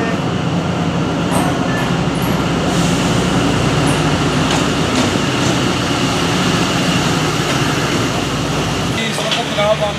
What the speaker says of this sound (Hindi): ट्रेन अभी जनाब स्टेशन पे पहुंच गई है